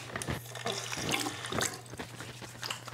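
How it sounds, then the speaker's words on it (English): Water running from a tap into a cupped hand, a soft irregular splashing and trickle over a low steady hum, faint and close, with no talking. "We're gonna put water in our hand."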